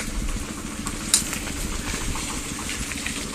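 A tractor engine idling steadily and close, a rough continuous low rumble with one brief sharp click partway through.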